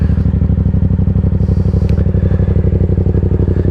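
A 2018 Yamaha XSR700 motorcycle with a Two Brothers Racing SR1 Black Edition exhaust idles steadily after starting, its loud, close, rhythmic engine pulse continuing unbroken throughout.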